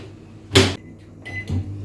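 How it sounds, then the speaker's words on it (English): A microwave oven door snaps shut with a sharp, fairly close clunk in a kitchen while baking Bajan turnovers, followed a moment later by a softer knock. "This one, I was going to quickly put it in our microwave."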